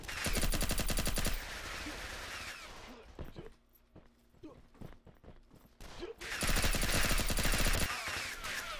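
Rapid automatic gunfire in the online shooter Red Crucible 2, dense loud bursts at the start and end with a quieter gap of scattered single shots between.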